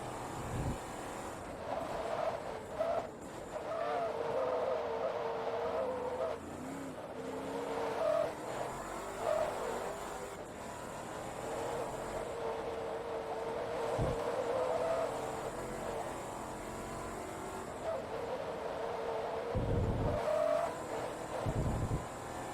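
Rear-mounted engine of a race car in Forza Motorsport 2 drones steadily at speed, with tyre and road rumble underneath and a few brief surges of revs, heard alone without commentary.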